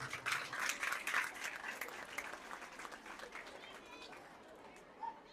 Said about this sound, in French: Applaudissez M. Dieye.